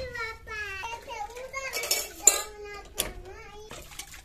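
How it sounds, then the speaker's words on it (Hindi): Pots and metal utensils clink and clatter as they are washed in a Pakistani village on a winter morning. The knocks are sporadic and fairly close, and someone talks and a child is heard over them. "अभी हम धो रहे हैं बर्तन।"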